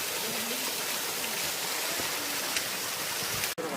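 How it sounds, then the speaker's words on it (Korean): Rushing water of a small waterfall on a mountain stream at Sorisan in Yangpyeong, a dense, steady broadband roar close by, with no talking. "이게 무슨 폭포인가요?"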